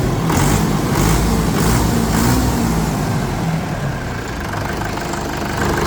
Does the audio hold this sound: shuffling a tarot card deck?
no